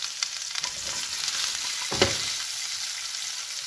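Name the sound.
peppers frying and sizzling in pan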